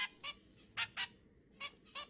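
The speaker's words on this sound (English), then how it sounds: "Oh my god, she's forced feeding the birds." Hungry birds being force-fed, giving six short, bright squawking calls in uneven bursts, close by and fairly faint with quiet pauses between.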